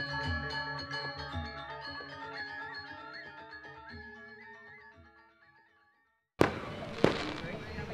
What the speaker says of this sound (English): As we end the night, we were graced by some fireworks nearby.